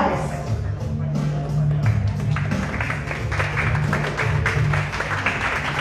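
Loud applause and cheering from an event crowd at the Reina de Babahoyo 2021 pageant as an artist is called to the stage, continuous clapping under a low musical hum.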